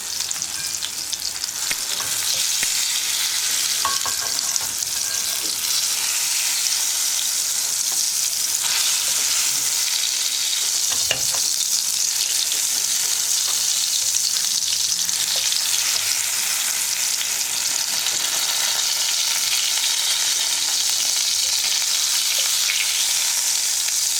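Tomatoes frying in oil for a tomato chutney, a continuous loud sizzle with occasional stirring scrapes and clinks in the pan. No one speaks.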